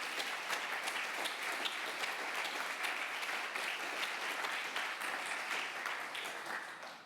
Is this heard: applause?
yes